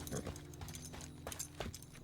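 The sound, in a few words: horses in the video game Teardown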